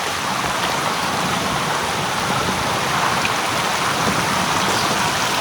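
A cold mountain stream at a high-altitude water crossing rushes in a dense, steady wash of flowing water, close and continuous throughout, with no talking.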